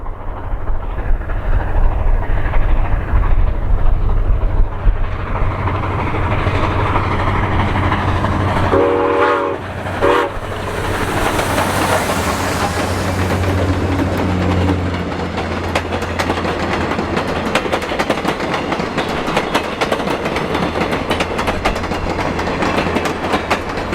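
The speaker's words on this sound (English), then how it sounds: "the train races past Quivero at 40 miles per hour" A steam train thunders past at 40 miles per hour, a loud continuous clattering rumble with a brief whistle blast partway through.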